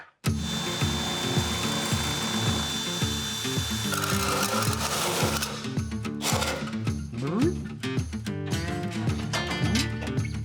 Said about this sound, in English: So I'm gonna drill a great big hole in the firewall.